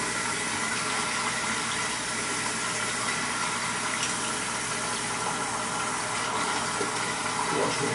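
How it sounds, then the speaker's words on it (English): Hot water runs from a tap into a sink after a shave, a steady, close, continuous rushing splash that holds without a break. "get some hot water."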